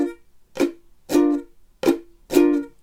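Ukulele strummed in a pop song's rhythm, with the down strums ringing out while the up strums are cut short by lightly lifted, muting fingers; four loud, evenly spaced chords, close and alone.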